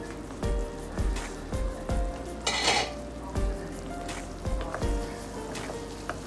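Onions and bitter gourd frying in a pan: a steady crackling sizzle runs throughout, punctuated by regular clinking knocks from stirring, close and moderately loud, with no voices.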